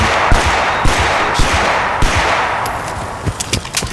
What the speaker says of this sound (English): I want to get in the habit of firing and then swapping to my secondary arm